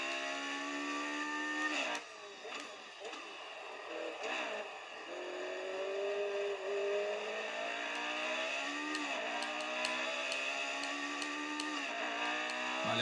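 A Lotus 72D Formula One car in F1 2018 lapping the Hungaroring, its engine a loud, steady high-pitched whine that rises and falls through gear changes and braking, with brief clicks and a voice talking underneath.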